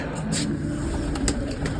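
A newly paired couple of pigeons coo softly and intermittently at close range over a steady background hiss, with no talking.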